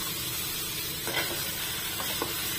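Paneer and vegetables frying in a pan for a homemade paneer veg roll, a steady close sizzle with a few brief stirring scrapes partway through.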